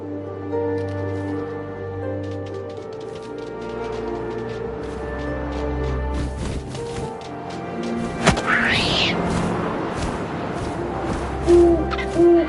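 Owl hooting in the video game What Remains of Edith Finch, a few soft hoots over a sustained ambient musical drone with occasional thuds and rustles.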